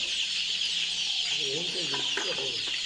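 Chickens in a poultry shed, a mixed flock of hens and roosters, cluck in several short bursts over a steady high hiss of shed ventilation or ambient noise, moderately close.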